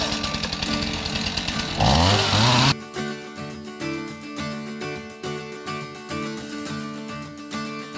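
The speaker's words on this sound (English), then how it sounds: "So let's go ahead and chop up this little limb." A Stihl MS251C chainsaw cuts through a small, heavy tree limb, its engine first roaring loud and steady, then dropping into a rhythmic idle-and-rev pattern after the cut.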